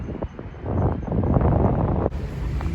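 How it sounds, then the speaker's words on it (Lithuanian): Strong wind buffets the microphone on a street in Hastings, a loud, steady rumbling roar that drops abruptly near the end and then continues more softly. "tai šiandien labai vėjuota"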